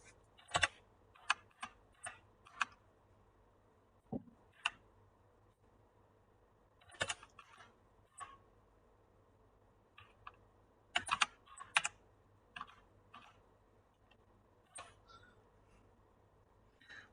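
Someone types sparse, irregular keystrokes on a computer keyboard, faint and close in a quiet room, the clicks coming singly and in short clusters.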